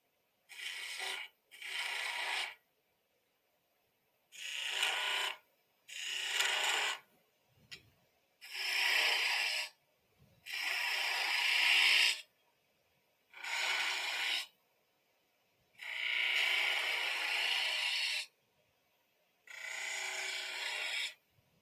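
A spindle gouge cuts coves into spinning wood on a lathe, producing a series of about ten separate hissing, scraping bursts of one to two seconds each with quiet gaps between, close and clear with no talking.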